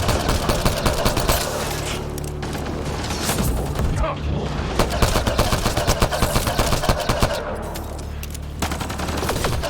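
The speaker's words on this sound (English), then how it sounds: "Gotta sensibly shoot them," Sustained video-game gunfire from Mass Effect Andromeda, with dense rapid shots and booms running the whole way at steady loudness, joined at times by speech and mechanical game noise.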